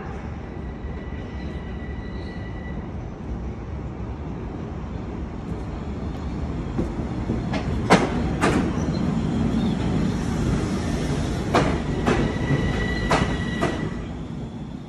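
A train rolls along the track with a steady, loud rumble, and sharp metallic wheel squeals break out several times in the second half, heard from close by with no talk.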